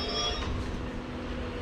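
A train on the Nilambur Road to Shoranur line in Kerala slows to a stop at a station, with a steady low rumble and a brief high wheel squeal near the start.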